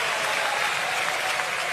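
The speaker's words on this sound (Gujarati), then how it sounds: "આવી તાળી ના હોય, હાથ ઊંચા કરીને તાળી પાડવી પડે." Crowd at a religious gathering clapping together in a dense, sustained burst of applause, steady and fairly loud throughout with no pauses.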